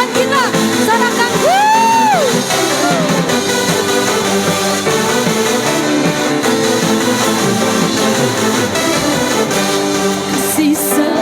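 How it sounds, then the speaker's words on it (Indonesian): Congregation cheering and shouting during a Sunday anniversary worship service at a Pentecostal church, a steady loud crowd roar with whoops, mixed with worship music and singing throughout. "Sorakan."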